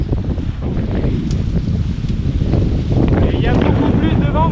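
Strong wind buffeting the microphone aboard a Mini 6.50 sailboat racing at sea after a passing front, a constant loud roar with water rushing beneath and faint squeaks, no one speaking over it.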